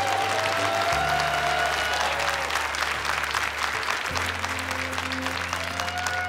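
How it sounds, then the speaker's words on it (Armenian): An audience at an Armenian TV children's contest show applauds the young performers with sustained, dense clapping that stays loud and even throughout, over a steady low hum. "Եկեք ծափահարենք երեխաները։"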